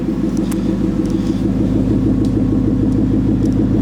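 A Ford Mustang GT with a Corsa Xtreme exhaust idles with a deep, burbling exhaust rumble, steady and close, with no talking.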